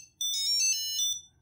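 A Tile Slim Bluetooth tracker plays its short electronic activation tune, a bright chiming melody of a few quick notes lasting about a second, close and clear in a quiet room.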